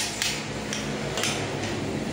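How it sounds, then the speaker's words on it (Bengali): Vegetables being chopped for fried rice, a few sharp knife knocks on a board at a slow uneven rhythm over a steady kitchen background. "দেখো এখন সব সবজিগুলো কাটা হচ্ছে ফ্রাইড রাইসের জন্য।"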